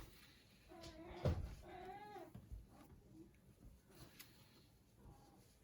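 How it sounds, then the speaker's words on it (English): A cat meows a few times at low volume, the longer drawn-out calls coming from somewhere nearby in a quiet room, with faint household noise. "Can you hear my kitty cat?"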